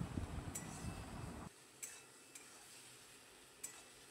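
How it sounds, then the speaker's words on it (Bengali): Mustard paste made with green chili, garlic and onion fries on a low gas flame in a wok, a soft sizzle with a few faint spatula scrapes and taps against the pan. "গ্যাসের আঁচটা একদম লো করে দিয়ে সর্ষেটা দেওয়ার পর খুব সুন্দর করে এটাকে ভেজে নিতে হবে যতক্ষণ না কড়াইয়ের গায়ে লেগে আসবে"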